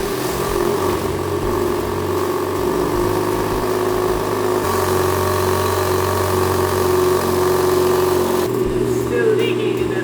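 A BMW F82 M4 with an aftermarket midpipe and Remus exhaust runs steadily at idle during an exhaust leak test, a loud continuous engine drone with a slight shift in tone partway through.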